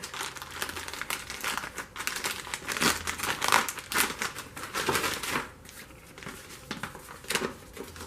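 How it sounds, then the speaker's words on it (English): Close, continuous crinkling of a thin plastic bag being handled, crackling in irregular bursts for several seconds with no talking. "Got in this little plastic bag here"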